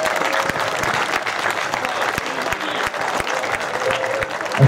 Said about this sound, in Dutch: een hartelijk applaus voor Kimje van der Horst, de trainer